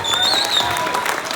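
A convention audience applauds an album anniversary, and a dense burst of clapping fills the room, loud and sustained for the whole moment, with a few whistles cutting through.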